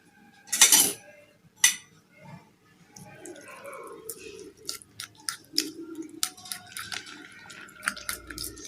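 Chicken omelette mixture being stirred in a bowl, giving a few sharp clinks of a utensil against the dish followed by softer scraping and wet sloshing taps, close and intermittent.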